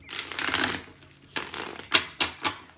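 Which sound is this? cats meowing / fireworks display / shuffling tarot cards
shuffling tarot cards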